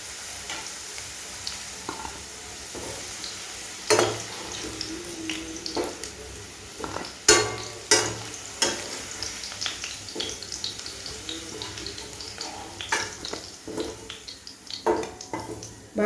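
Raw mango pieces frying in hot oil with a continuous crackling sizzle, broken by repeated spoon scrapes and knocks against the pan that land in irregular bursts, close and fairly loud, no talking.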